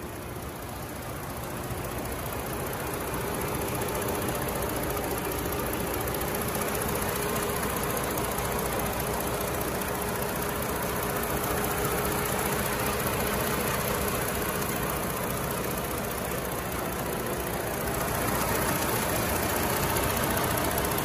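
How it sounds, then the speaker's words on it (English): A 2014 Ford Taurus with a 3.7-liter gas engine runs steadily with the hood open, a close, even idle hum with no talk over it. "We're going to walk up to the motor and let you see in here just how this thing's running."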